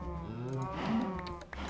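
Cows mooing in a magical farming video game, a long, near, low lowing call with a drawn-out pitch rise and fall.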